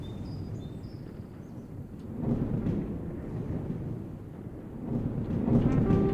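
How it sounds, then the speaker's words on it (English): A thunderstorm in the village-building game Forest Village rumbles low and heavy, with swelling rolls of thunder over a steady wash of rain and faint bird calls, loud and continuous with no talking. "And loudness ensues because of the thunderstorm and the game speed that we're on"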